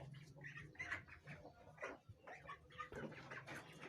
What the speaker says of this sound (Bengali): এখন হয়তো ওই মুরগিটা বের হবে কুচ থেকে